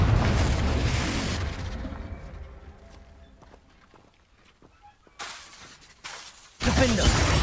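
Explosive Confringo spell blasts in the Hogwarts Legacy video game on PS5: a loud, dense burst of rumble at the start, then a quieter gap, then two more sudden heavy blasts near the end.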